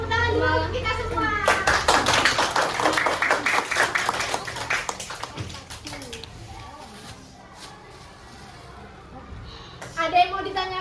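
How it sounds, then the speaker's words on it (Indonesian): Children in a grade 4 primary school classroom clap their hands together in a burst of rapid applause lasting a few seconds, with voices talking over and after it as the clapping fades. "Oke, tepuk tangan dulu untuk kita semua."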